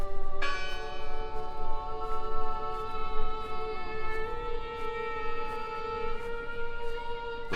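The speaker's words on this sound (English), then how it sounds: "The bell's still ringing." A church bell rings in the horror video game Draugen. One loud, clear strike hangs with a long, shimmering ring-out that slowly fades, while faint ambience sits in the background.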